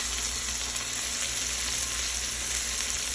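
Red onions fry in a pan with a dense, even sizzle that holds steady and close throughout.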